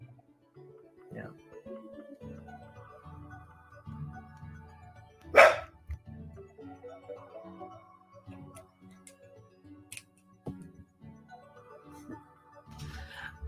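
A pet dog gives a single sharp bark in the middle of ongoing conversation, loud and nearby, while people keep talking steadily around it.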